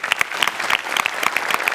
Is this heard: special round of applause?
yes